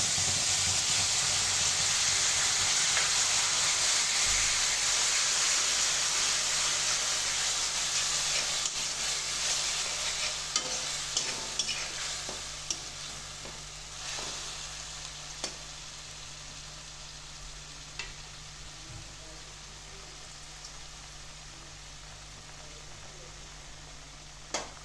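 Onion, garlic and chili paste dropped into hot oil while cooking dried hilsa with bamboo shoot, a loud hissing sizzle that starts strong and slowly softens, with a few spoon clicks and scrapes.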